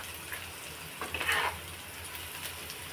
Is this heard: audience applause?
no